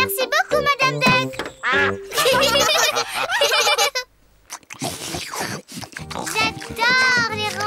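Cartoon ducks quack in short bursts amid lively animated children's dialogue and bright music, with a brief pause midway before voices and quacks resume.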